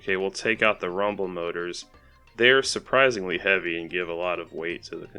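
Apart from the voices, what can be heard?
No distinct noise like a dog, phone or traffic.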